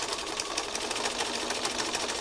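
A sewing machine stitches fabric scraps in a rapid, even mechanical chatter, the needle's fast repeating clicks running continuously and close up with no speech.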